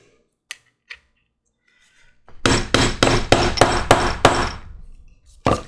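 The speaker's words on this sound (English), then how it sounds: "just drive it down with a mallet" Steel rivet on an anvil struck with a mallet through a rivet setter, several sharp, close hammer blows in quick succession, then one more strike after a brief pause, with two light taps beforehand.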